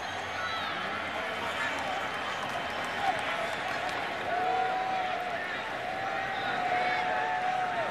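A sellout homecoming crowd at a college football stadium, Wisconsin versus Nebraska, roars and murmurs in a steady loud wash throughout, with a commentator's voice over it.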